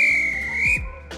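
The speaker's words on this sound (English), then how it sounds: "You may press the whistle button." In the Roblox SCR train game a guard blows a whistle, one sharp sustained shrill blast lasting most of a second, loud and close, then a quick fading hiss.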